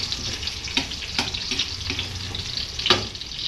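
Ginisa being sautéed in a pan for a Filipino fish dish, a steady close sizzle and hiss with a few sharp clatters of stirring, no talking.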